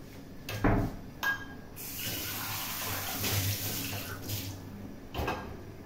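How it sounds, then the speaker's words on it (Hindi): Hot water runs steadily from a kitchen tap during kitchen cleaning, with a few louder splashes and knocks near the start and end. "इस पर गरम गरम पानी डाल लो"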